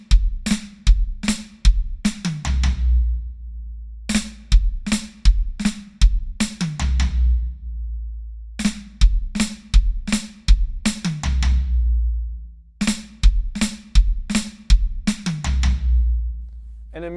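Close, loud drum kit playing bars of flam strokes across snare, high tom and floor tom with bass drum, sharp grouped hits in repeating phrases with booming low tom decay between them, no talking.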